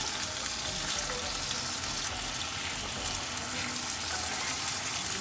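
Tomatoes hit a hot pan with garlic and spices, and a steady, loud sizzle of frying runs without a break, with no voices.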